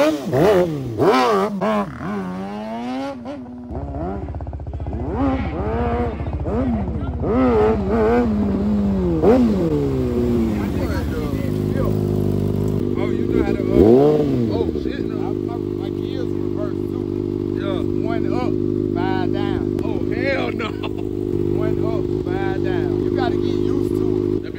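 A Yamaha Raptor 350 ATV fitted with a 600cc-class 636 motorcycle engine revs hard, rising and falling in pitch before settling into a loud sustained drone, with excited voices talking over it.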